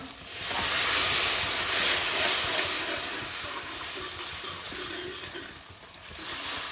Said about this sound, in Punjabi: ਹੁਣ ਇਹਦੇ ਵਿੱਚ ਪਾਣੀ ਆਪਾਂ ਤਾਂ ਇੰਨਾ ਸਾਰਾ ਪਾਇਆ